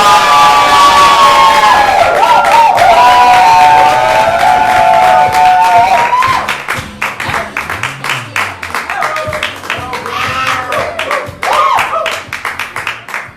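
An audience at a fringe comedy show claps and cheers for an improv teen musical act. A dense, loud wash of applause and shouts fills the first six seconds, then thins into scattered, lighter clapping with crowd noise.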